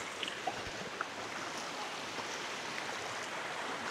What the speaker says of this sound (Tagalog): Sarap pakinggan ng lagaslas ng tubig